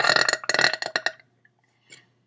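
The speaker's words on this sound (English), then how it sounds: "That was like an air burp." A loud, drawn-out burp breaks into a rapid string of throaty pulses for about a second, then trails off, with a smaller belch-like gurgle following after a short pause.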